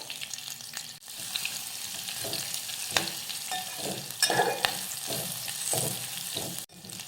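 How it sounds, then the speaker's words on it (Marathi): Garlic paste and finely chopped green chillies sauté in hot oil, a continuous close sizzle with repeated spoon scrapes and stirring knocks against the pan. "आता हे सगळं परतून घेऊयात"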